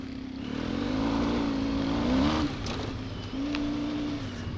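An off-road trail motorcycle rides a muddy track, its engine droning steadily with a rising revved pitch, easing off briefly and then climbing again, close and continuous.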